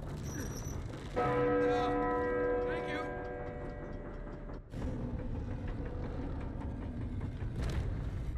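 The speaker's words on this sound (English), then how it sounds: "There is that big bell at the top." A big church bell in the Uncharted 4 video game rings with a sustained, resonant tone at the top of a church, swelling briefly and decaying over game ambience and a thud midway.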